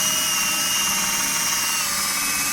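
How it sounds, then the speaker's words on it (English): A Snap-on orbital 90-degree drill sands a headlight lens with fine-grit sandpaper, a steady high-pitched whirring buzz that runs close and loud the whole time with no talking. "with the orbital 90-degree drill from Snap-on, just because it's a lot easier with the finer grit sandpapers, but just nice long motions with it"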